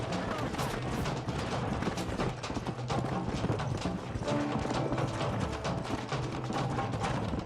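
Rapid, busy clip-clop of horse hooves amid loud game action noise in Red Dead Redemption, with dense clattering rhythm and scattered bangs throughout.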